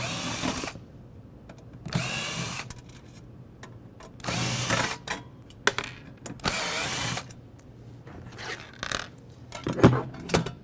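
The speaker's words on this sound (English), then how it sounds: "Remove the panhead screws first." Panhead screws being unscrewed from the top of a repair unit with a power driver, giving short bursts of whirring drill noise separated by pauses, with small clicks and scraping of the tool against the housing.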